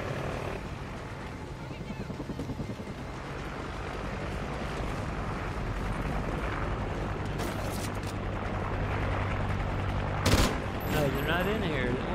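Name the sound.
gunfire shot at the player in a video game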